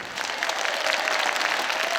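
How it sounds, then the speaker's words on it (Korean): An audience at a church revival service in an auditorium breaking into applause, a steady wash of many hands clapping at moderate level for the whole stretch. "박수 한번 합시다"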